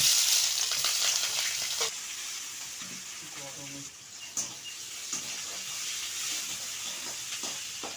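Chopped onion hitting hot oil in a wok already seasoned with bay leaf and cumin, a steady bright sizzle with a few stirring scrapes and clinks, close and continuous.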